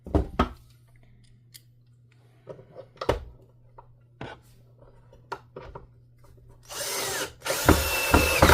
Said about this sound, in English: Just a regular drill, it's not an impact driver.